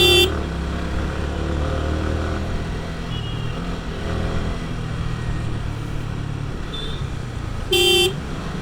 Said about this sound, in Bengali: এ তো হরন দিচ্ছে কেন?